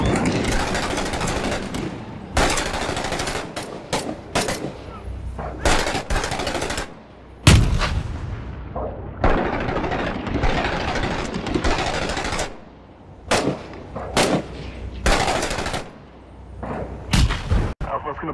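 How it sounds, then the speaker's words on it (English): Rifle and machine-gun fire in Six Days in Fallujah, coming in sharp, loud bursts and volleys separated by short pauses, mixed with heavier booms. "Shots from the left."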